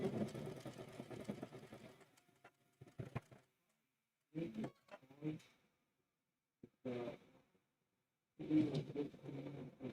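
A sewing machine stitches quilt fabric in several short, loud bursts of rapid clatter separated by pauses of silence.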